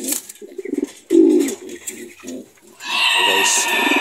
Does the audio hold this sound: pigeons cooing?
yes